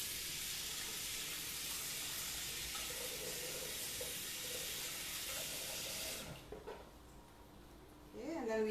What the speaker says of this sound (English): I'm going to add water, about a liter.